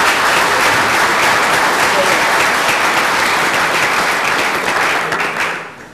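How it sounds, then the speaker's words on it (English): Audience applause at an evening school and community event, a loud, dense wash of clapping filling the room and sustained steadily for several seconds before tapering off at the end. "Can we give them a round of applause?"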